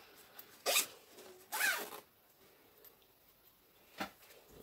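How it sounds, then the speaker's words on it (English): Two quick zipper pulls rasp close by in succession as a zipper is zipped down, followed by quiet and a faint tick a couple of seconds later. "So before you cut it, make sure you zip it down."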